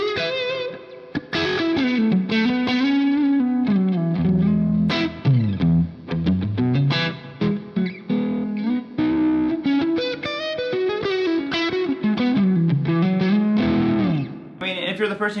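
An electric guitar solo played through an Orange amp with effects, switched via a KHE ACS 4×4 FX amp switcher, sings loud and distorted with chorus-like shimmer, sustained bending notes and quick runs, close and unaccompanied by talk.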